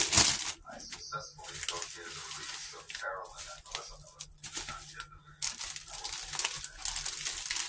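A large plastic zipper seal freezer bag is folded by hand, with close crinkling and rustling in irregular bursts alongside some water-like sounds and a quiet voice in the background.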